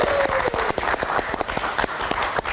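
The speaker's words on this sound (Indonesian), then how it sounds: "Kita kasih tepuk tangan sekali lagi." Applause welcoming guests at a padel talk event: a crowd clapping in brisk, sharp strokes, steady and fairly close, with a faint tone at the start.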